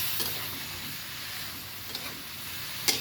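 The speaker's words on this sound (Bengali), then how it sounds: "এখন আমি মশলাটাও এই তরকারির সাথে কষিয়ে নেব" Homemade chaat masala is sautéed into a curry made with Rajshahi katoa stems and roe-filled hilsa fish. A soft, continuous frying sizzle plays close by, with a couple of faint stirring clicks.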